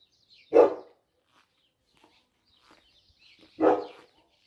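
A dog barks twice outdoors in a Cypriot village, two single sharp barks about three seconds apart, moderately distant, with quiet faint background between.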